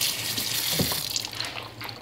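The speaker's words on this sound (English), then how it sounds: "Let me rinse my hands" Hands are rinsed under a running kitchen tap while making eggplant parmesan, a steady close splashing rush of water throughout the short stretch with small gurgling changes.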